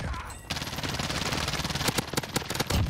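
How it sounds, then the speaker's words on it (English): Rapid bursts of automatic gunfire in Call of Duty Warzone, a dense rattle of shots with several sharper close cracks toward the end, moderately loud over background game noise. "You just got shot from behind."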